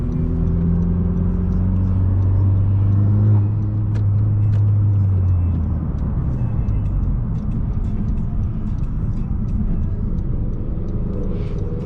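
Stage 1 tuned car pulling hard down a straight road, a loud, steady engine rumble and drone from inside the cabin that stays strong throughout, with a rising tone early on.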